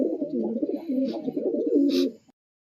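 Several pigeons coo in a steady, rolling burble close by, a female black stamped bird among a loft of racing pigeons about to be released, with a brief flutter near the end before silence.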